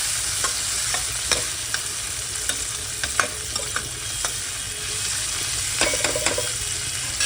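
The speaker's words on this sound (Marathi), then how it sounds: "आता आपण ह्याच्यामध्ये कांदा टाकूया. गुलाबी कांदा आपण करू आता." Onions fry in a pan for chicken biryani, a continuous close sizzle broken by regular spoon-stirring clacks and scrapes, with no talking.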